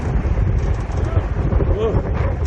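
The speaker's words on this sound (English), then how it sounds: "We're sailing in some wicked winds again." Strong wind buffets a sailboat during a trip to Annapolis, a loud continuous low roar of gusting wind across the microphone, steady throughout with faint voices underneath.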